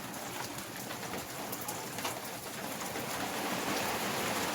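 Heavy rain falls in darkness at night, a dense, loud, unbroken hiss of drops hammering surfaces close by, steady throughout with no voices.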